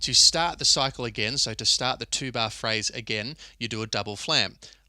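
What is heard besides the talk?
None of the usual background noises is heard.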